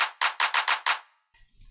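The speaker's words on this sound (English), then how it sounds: "And then this basic 909 clap" A crisp 909 drum machine clap hits five times in a steady rhythm, bright and snappy, fading out before a faint trailing sound.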